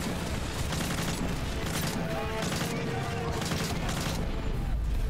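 Sustained covering gunfire in the video game Call of Duty Modern Warfare 3, a dense, loud barrage of shots and booms running continuously throughout, with battlefield noise layered underneath.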